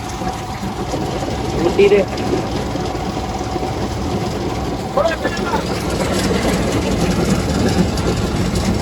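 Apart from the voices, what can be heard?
combine harvester threshing grain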